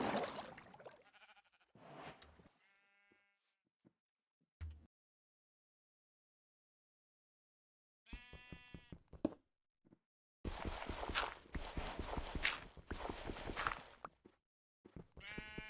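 Sheep in a survival video game bleat in several separate bursts, loud and close, with long silent gaps between them.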